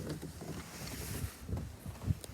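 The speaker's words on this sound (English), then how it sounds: "Look at the wind. Just blowing the snow around." Wind gusting outdoors during a snowstorm, blowing snow around a backyard, heard as steady low rumbling wind noise buffeting the microphone, with a few stronger gusts.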